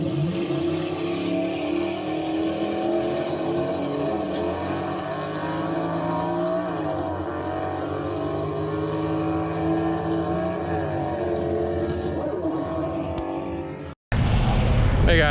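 A whole stream of cars pulls out of a car show, a steady mass of engine rumble and rising revs that fills the air continuously at close range.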